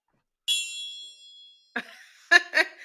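A single bright metallic gong stroke rings out alone, its shimmering tone sustaining and fading over about a second before a voice begins talking.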